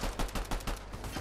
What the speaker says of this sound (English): I'm shooting. Got him.